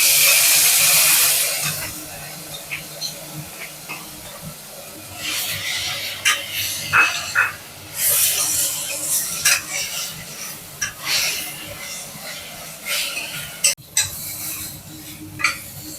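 Ginger garlic paste fries and gets stirred in a pan for a gravy, a brief loud sizzle at first settling into scattered scraping and clinking of a spoon against the pan, close and uneven.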